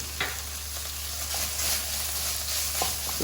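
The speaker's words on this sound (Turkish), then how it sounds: "Salçayı kavuruyorum ki salçanın ekşi tadı gitsin." Tomato paste fries with a steady sizzle in a pan, broken by a few soft scraping stirs, close and continuous with no talking.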